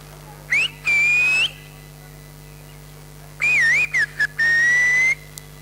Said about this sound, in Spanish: llamando, silbando